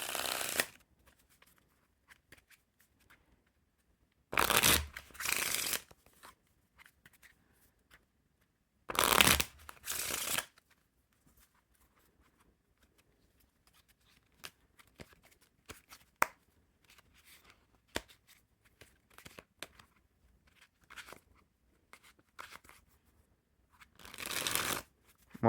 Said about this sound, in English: for a used deck of cards, they still handle fantastic